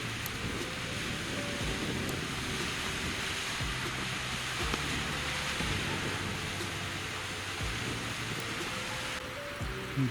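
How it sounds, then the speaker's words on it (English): Steady rushing water from a waterfall beside a mountain hunting camp in the Yukon, a constant broadband roar like heavy rain that holds unbroken for the whole stretch at moderate level, with no voices. "There's a waterfall coming out from where we're camping."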